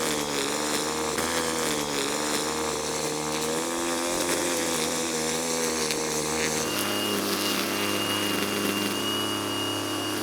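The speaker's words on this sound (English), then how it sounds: "I'm going to get the strimmer out and give this a trim" Strimmer trimming autumn lawn edges, a loud continuous buzzing engine whine that holds steady and shifts pitch slightly near the end, close by with no talking.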